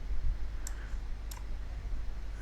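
Two crisp, close computer mouse clicks about half a second apart, made while working in fluid-flow simulation software, over a steady low room hum.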